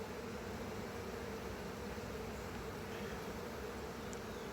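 Honey bees hum inside a nuc hive box, a steady, faint, continuous drone with no breaks and no voices over it.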